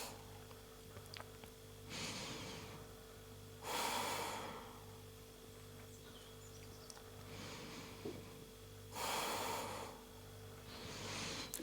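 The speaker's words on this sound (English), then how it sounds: "Sending deep breaths into the belly." Slow, deep breaths during a yoga session, drawn into the belly: four airy inhale-exhale swells spaced a couple of seconds apart, close and quiet over a faint steady hum.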